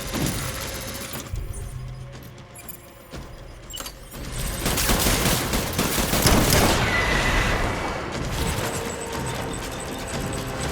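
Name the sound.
gunfire in Death Stranding video game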